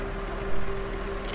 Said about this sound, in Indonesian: Kita dengarkan suara mesinnya guys, mesin Mercedes-Benz OH1626 terdengar begitu mantap.